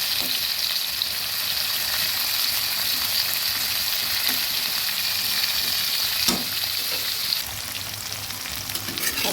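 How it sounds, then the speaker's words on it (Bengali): Spiny gourd pieces (kakrol) fry in oil in a pan, a loud, even, rain-like sizzle that runs throughout, with a few clinks and stirring knocks near the middle. "সবগুলো কাঁকড়কে জায়গা করে ভেজে নিচ্ছি"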